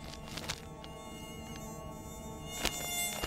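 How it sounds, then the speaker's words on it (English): A mosquito buzzes in flight, a thin, steady, high-pitched whine heard close up, with a few faint clicks and no talking. "Meet the mosquito, the smallest and deadliest creature in the countdown."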